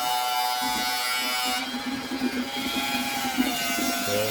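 An electric flush pump for a tankless water heater switches on and hums with a steady close-up buzz that shifts in pitch partway through, and a voice speaks briefly over it.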